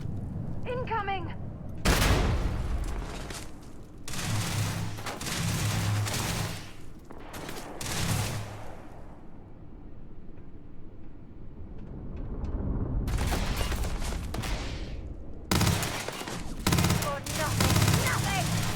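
Rapid gunfire in the video game Starfield, loud sustained bursts of automatic shots in several long volleys separated by quieter gaps, close and dominant.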